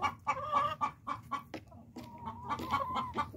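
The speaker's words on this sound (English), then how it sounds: "So this is a perfect example of a broody hen." A broody hen guarding her eggs clucks in a quick series of short, close calls, alone with no talk.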